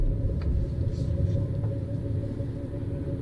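A Citroen C6 rolls slowly in reverse on three wheels, producing a steady low engine and road rumble heard from inside the car, continuous and fairly loud with no talking.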